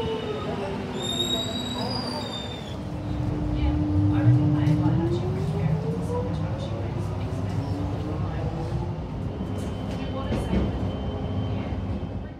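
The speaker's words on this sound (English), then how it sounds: "Oh look, here comes the train." An electric suburban train pulls in on Melbourne's Alamein line, a rising low rumble with a long steady tone and metallic wheel squeal, fairly close and continuous, with faint voices in the background.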